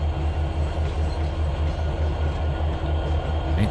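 Trainz 2022 train rolling slowly while backing onto an inbound track, a steady low rumble with faint rhythmic pulsing throughout and no talk.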